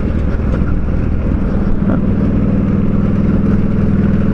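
A Honda Shadow 600 VLX motorcycle engine running steadily, a loud, close low throb with a constant rumble that holds even throughout, no talking over it.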